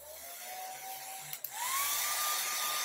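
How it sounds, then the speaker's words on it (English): Hair dryer drying paint on a Halloween cat painting, a whining high-pitched motor that rises in pitch as it speeds up, close and loud, with a brief click as it switches on. "To use a hair dryer as well. Cuts the time down in half."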